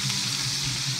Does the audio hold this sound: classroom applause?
no